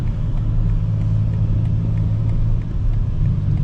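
A 2025 BMW M4 CS cruising on the I-95 highway: a steady, loud low engine drone and road rumble from inside the cabin, continuous throughout with no talking.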